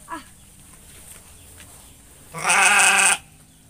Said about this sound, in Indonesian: Domba pedaging.